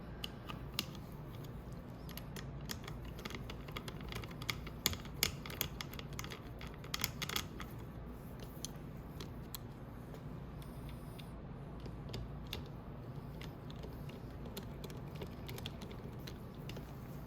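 Bolts on the cover of a Venom 125cc engine are run in quickly by hand, making quiet, close ratcheting clicks and small metallic ticks in uneven bursts over a low background hum.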